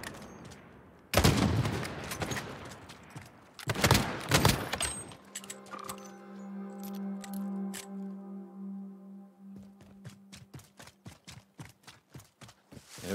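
Gunfire from the video game Call of Duty: two loud bursts of shots early on, followed by a rapid, steady run of sharp shots over a sustained droning tone, all fairly close with no talking.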